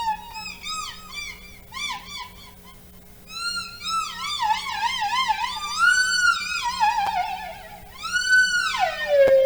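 A theremin plays alone, gliding in wide wavering swoops and rapid vibrato, rising and falling in pitch, growing louder toward the end with a final downward slide; a faint steady hum underneath.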